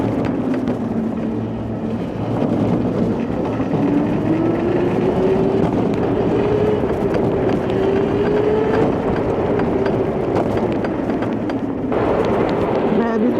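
A go-kart drives round a track at night, its small engine droning steadily with the pitch rising and falling as it speeds up and slows, under continuous rumble and road noise.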